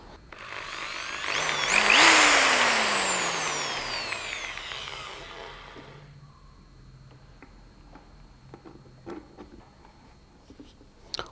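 A Bosch GSB 13 RE corded impact drill with a Phillips bit drives a small screw at low speed, its loud motor whine rising and then falling away as the screw seats, followed by a few faint clicks and handling knocks.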